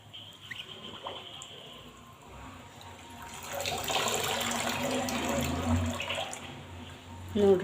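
Tap water running into a container at home, a steady splashing flow that grows louder midway and continues to the end, with faint background noises.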